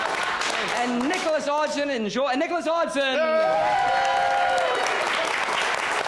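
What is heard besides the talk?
audience applause for improvisers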